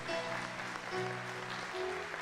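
Applause fills a church service, a steady, dense wash of many hands clapping at close range, with sustained musical tones ringing underneath throughout.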